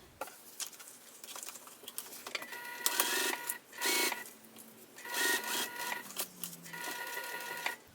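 A sewing machine topstitches a crossbody bag in several runs of rapid, rhythmic needle chatter, separated by short pauses and soft handling noises, fairly quiet and close.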